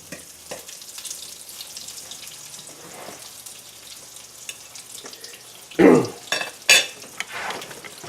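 Thick floured eggplant slices brown in a frying pan with a faint, low sizzle, broken by a few louder clatters of utensil against pan near the end.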